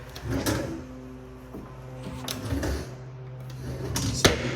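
Painted wooden drawers being slid open and shut, a few scraping, rumbling runs ending in a sharp knock near the close, with a steady low hum underneath.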